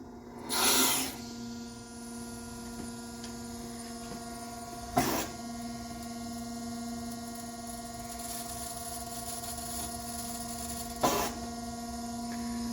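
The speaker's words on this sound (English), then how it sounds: "We've had the hydraulic pump running for a little while. Now let's get the table moving a little bit." A Willis automatic surface grinder with its hydraulic pump running, a steady tonal hum and hiss holding throughout, broken by three short sharp hissing bursts as the table moves and reverses, close and moderate in level.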